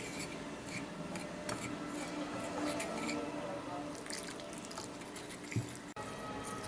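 Batter being mixed in a bowl as water is added bit by bit, giving soft wet squishing and rubbing sounds close by over a steady background hiss, with one sharp knock near the end.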